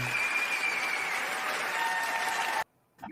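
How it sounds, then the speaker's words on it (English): A recorded round-of-applause sound effect plays as a broad, even wash of crowd clapping. It cuts off abruptly into near silence, and a faint sound returns at the very end. "I had to give you the round of applause for that."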